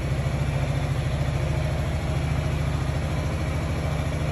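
A 2022 Yamaha Xmax 300 scooter idles steadily up close, its engine holding an even, continuous low throb with no change in pace.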